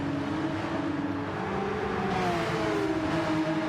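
A race car engine screams at full revs in third gear during a Porka Cup round, a steady loud high-pitched drone with no talk.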